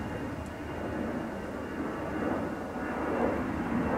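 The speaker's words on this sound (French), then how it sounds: "Maintenant, il y a un avion qui passe." An airplane passing overhead above a rain-soaked forest, a faint, steady distant engine roar that swells slightly toward the end, heard alone without speech.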